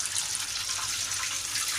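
Cold tap water running steadily as cooked vermicelli for falooda is rinsed in a strainer, a continuous close hiss with no talk.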